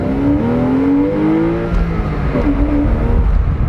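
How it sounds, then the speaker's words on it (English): A car from Rhode Island, never exposed to road salt, accelerates smoothly, its engine note climbing steadily and loudly from inside the cabin without any break; no talking. "Very smooth acceleration."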